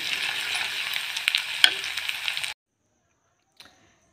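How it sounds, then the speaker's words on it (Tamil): Onions sizzling and frying in a pan while being sautéed until lightly browned, with a steady hiss and occasional stirring scrapes, then it cuts off to near silence. "வெங்காயம் சேர்த்துட்டு நல்லா வதக்கிட்டு இருக்கேன்"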